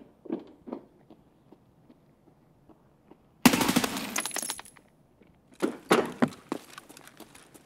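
Video game gunfire: a few faint shots at first, then a loud burst of rapid automatic fire, a pause, and another dense volley of close shots with clattering impacts.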